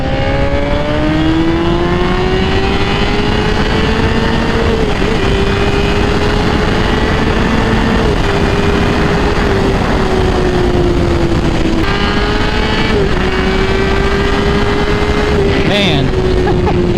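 A Honda CBR1000RR sport bike engine howls steadily in second gear, loud and close with a rising whine and brief dips as the throttle shifts, with wind rush and a rider's voice under it.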